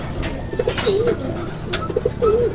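Homing pigeons coo softly in repeated low warbling calls, with a few sharp high chirps and faint wing flutters nearby.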